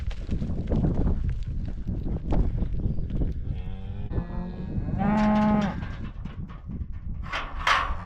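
Cattle moo nearby, with a long low bellow in the middle and another call near the end, over rustling outdoor noise and hoof-like thuds.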